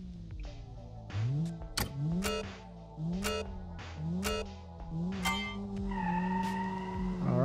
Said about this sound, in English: Alright, here we go, wheel spin.